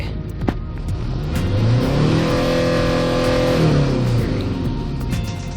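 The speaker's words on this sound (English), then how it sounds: "Let's try to accelerate." A Hyundai Starex TCI diesel van engine revs up from idle, rising to a steady high pitch, holding, then falling back down, loud and close with no talking.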